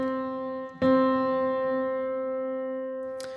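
A single pitched musical note, C, sounds, then the same C is struck again as a unison and rings out, sustaining and slowly fading.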